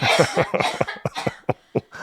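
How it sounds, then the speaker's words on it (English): A person coughs in a rapid series of harsh, close bursts, ending in a few separate single coughs. "Where'd that cough come out of nowhere?"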